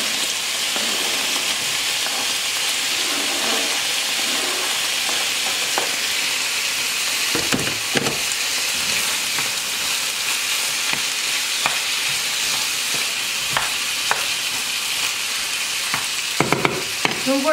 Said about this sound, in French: je baisse un peu et je rajoute les oignons